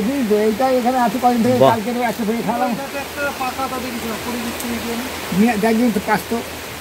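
Steady rain hisses in the background while people talk over it, their voices clear and close.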